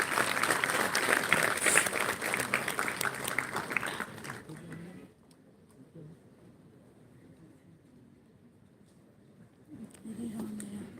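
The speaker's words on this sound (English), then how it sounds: "A big round of applause for all of them." Audience at an anaesthesia foundation day awards ceremony applauds, a dense burst of clapping lasting about five seconds, then quiet room tone, before more clapping rises again near the end.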